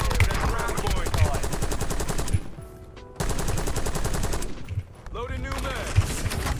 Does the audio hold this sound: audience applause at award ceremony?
no